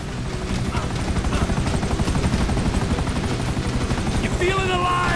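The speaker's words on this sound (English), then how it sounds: "Chopper, right behind us." A helicopter in Grand Theft Auto V flies overhead, its rotor chop loud and steady, pulsing without a break throughout amid game action.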